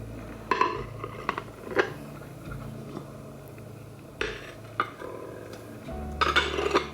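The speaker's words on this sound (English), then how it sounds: "here I have my stack of brown transferware, ironstone type of dishes" Brown transferware ironstone dishes clink and knock together as they are stacked, a handful of sharp ceramic contacts spread unevenly through a quiet room, close and moderately loud with no talking.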